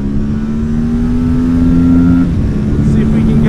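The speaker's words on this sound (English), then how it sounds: "Let's see if we can get this up to 100." A close Aprilia RS457 motorcycle engine revs up steadily on a track, its tone rising, then briefly drops as if shifting gear before pulling again, with constant wind rush underneath.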